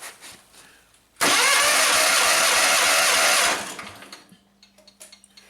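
John Deere engine cranking at wide open throttle during a compression check on the right side cylinder; a loud, steady mechanical churn lasting over two seconds, close up, cutting off abruptly into quieter handling noise.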